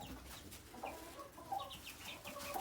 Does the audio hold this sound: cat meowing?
no